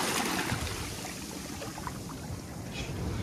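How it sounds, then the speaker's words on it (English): Ocean waves at a beach beside a big jetty at Avon-by-the-Sea, a steady broadband wash of surf with a continuous close roar and faint swells rising and falling. "You can hear the literal waves."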